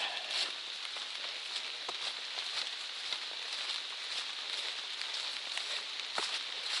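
Steady rain patters on leaves and ground along the Appalachian Trail, a dense, even hiss with scattered drips, no voices.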